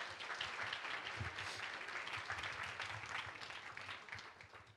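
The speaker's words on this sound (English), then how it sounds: "Can we give them another round of applause" Applause from a large conference audience, a dense steady patter of many hands clapping that gradually fades toward the end; fairly distant and quiet.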